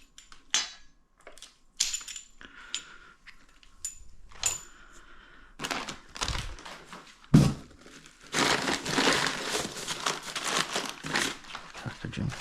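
Packaging for Yellowspeed coilovers crinkles and rustles during unboxing, with a rear spring and front struts among the parts: sharp plastic crackles and rattles in bursts, then a longer, denser stretch of crumpling close by.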